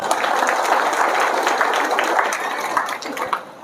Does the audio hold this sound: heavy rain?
no